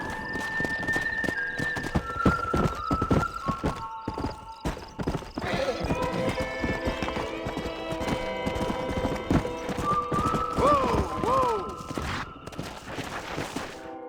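Horses gallop in the Western video game Red Dead Redemption, with rapid clip-clopping hooves, loud whinnies and neighs, and game music tones over the running hoofbeats.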